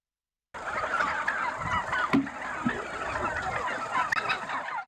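A flock of turkeys on a farm gobbles and calls continuously, many birds overlapping in a busy, noisy chorus that starts abruptly.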